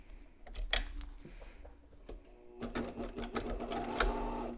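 A sewing machine stitches down folded fabric edges on a homemade protective face mask, running in short bursts with pauses and clicks between them, then a longer steady run near the end.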